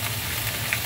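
Mussels sautéing in a pan as fish sauce is added, a brief steady hiss of sizzling with a faint click near the end, no voices.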